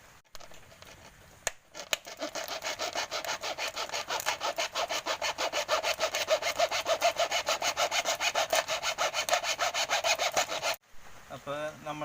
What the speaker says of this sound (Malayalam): അപ്പോൾ നമ്മൾ ഈ ബോട്ടിൽ ഇങ്ങനെ കട്ട് ചെയ്ത് എടുത്തിട്ടുണ്ട്.